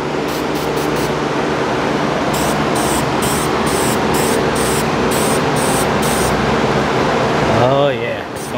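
A steady, loud hiss of black spray paint fires continuously from a spray gun onto Yamaha XS400 motorcycle engine parts with brief pulsing bursts, then cuts off near the end.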